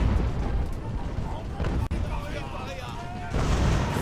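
Cannon fire in the naval-era battle game Ultimate Admiral: Age of Sail, a continuous rumbling barrage of booms with a brief sharp crack midway, loud and dense under someone talking.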